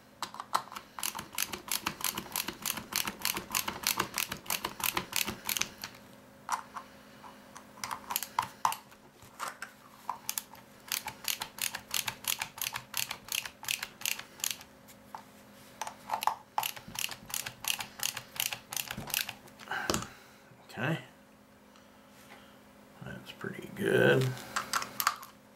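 Rapid, even ratcheting clicks from a wrench tightening bolts on homebrew 20-meter dipole antenna hardware, going in long bursts with brief pauses, close by and fairly loud, with a few heavier knocks near the end.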